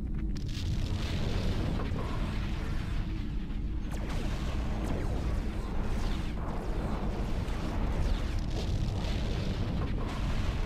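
Spaceship explosions in the space combat game Star Trek: Klingon Academy: a dense, continuous roar of booming blasts with repeated sharp bursts, loud and sustained throughout.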